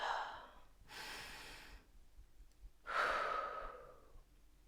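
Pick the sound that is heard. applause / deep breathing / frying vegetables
deep breathing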